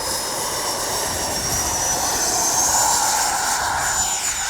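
A Freewing 90mm F-22 V2 RC jet takes off, its electric ducted fans giving a loud, sustained high-pitched whine and rushing roar that rises slightly as it climbs away.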